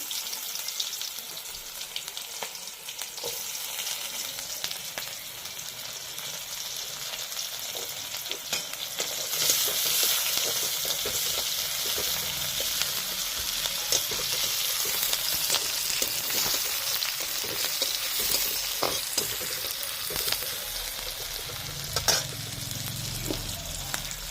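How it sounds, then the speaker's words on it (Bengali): Dry red chillies, cumin and onion frying in hot oil in a pan, a continuous close sizzle that swells louder midway, with scattered crackles and occasional stirring scrapes. "এখন আমি শুকনো লঙ্কা সম্বরা দিচ্ছি, একটু জিরা দিচ্ছি, পেঁয়াজ দিলাম"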